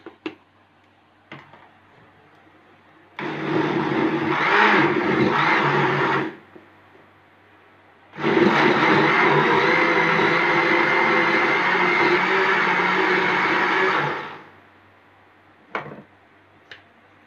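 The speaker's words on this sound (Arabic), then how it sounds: "بعدين هنضربها في الخلاط عادي" An electric kitchen blender purees molokhia greens with soup in two runs, a loud steady whirring burst of about three seconds, a pause, then a longer six-second run, with small clicks and knocks around them.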